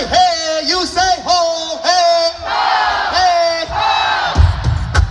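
Concert crowd at a summer tour show shouting together in call and response, loud repeated chanted cries from a large audience with a few pauses between rounds.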